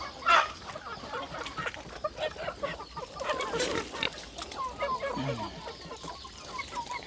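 Chickens clucking at feeding time after rain on a farm where pigs are also kept, steady close clucking and squawks over a busy outdoor background, with a louder call near the start.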